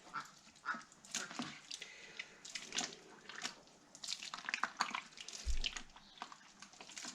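Tap water running for fruit wine, a soft uneven splashing and trickling with scattered clinks, fairly faint and close, no talking.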